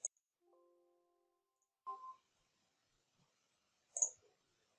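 A few isolated mouse clicks in a quiet setting while working in image analysis software, spaced apart with near silence between them.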